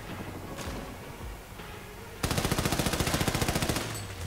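Close, loud rapid automatic gunfire rattles at a shooting range in Army of Two The Devil's Cartel, a fast, even string of shots breaking in after a quieter stretch.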